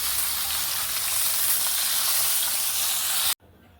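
Tilapia fish frying in hot oil gives a loud, steady sizzle that runs unbroken and then cuts off abruptly near the end, with no one speaking.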